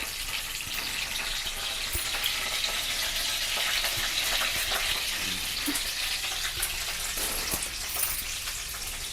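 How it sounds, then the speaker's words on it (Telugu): Dried red chillies and curry leaves frying in hot oil as a tempering, a steady close hiss and crackle of sizzling that runs without a break, with no voices. "తాలింపు వేగుతుంది కదండి"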